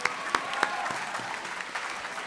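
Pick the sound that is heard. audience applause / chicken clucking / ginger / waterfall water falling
audience applause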